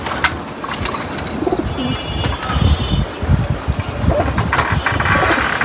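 Racing pigeons coo in soft, repeated throaty bursts close by, with an engine rumbling in the background throughout.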